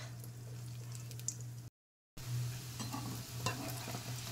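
Potato patties for a fasting meal frying in a hot pan, a steady close sizzle with faint crackles and a constant low hum, broken by a short silent gap before the frying noise resumes.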